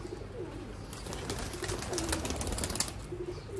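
Pigeons kept as a flock of pairs coo softly in repeated low, rolling calls, fairly faint, with a light background hiss and no talk.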